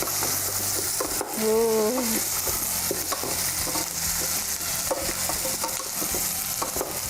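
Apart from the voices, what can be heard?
stirring carrot and ginger in a pot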